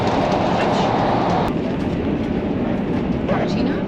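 Passenger train riding on rails in Italy, a steady rumbling interior hum with faint rhythmic clatter, continuous and moderately loud.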